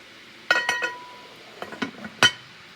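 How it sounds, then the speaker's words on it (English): A metal lid goes onto a vintage 1950s Guardian Service aluminum canner, giving a few sharp close clinks and clanks in quick clusters, with a final louder clank. "So now I'm going to put my lid on my canner and process them for 15 minutes."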